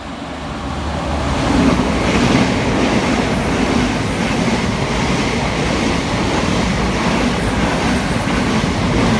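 A Thameslink Class 700 unit passing fast through a station, a loud, sustained roar of wheels on rail that swells and holds steady, with no talk over it.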